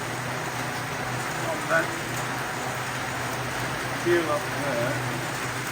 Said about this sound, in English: you can see the rainfall in the village